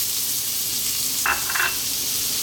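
Ginger fries in hot oil in a pan used to cook a whole sea bass, giving a steady loud sizzle with two brief scraping stirs partway through.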